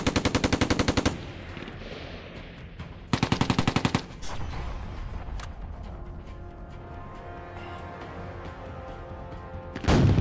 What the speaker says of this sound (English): you fire the machine gun, yeah, it's okay, but don't fire the main gun